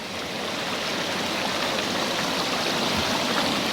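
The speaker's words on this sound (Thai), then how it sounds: "ลำธาร" A steady rush of flowing stream water, continuous and fairly close, with no voices.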